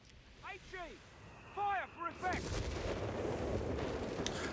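Artillery fires and shells land in the strategy video game Company of Heroes 3, with several deep booming blasts and rumbling impacts amid game effects and curving whistles, loud in the second half.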